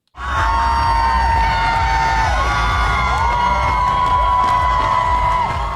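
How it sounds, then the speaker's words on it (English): Massive crowds cheer and whoop along 4th Avenue in downtown Seattle for the annual Pride Parade, a loud sustained roar with shrill screams and whistles rising above it. "we had some massive crowds for the annual Pride Parade through downtown Seattle"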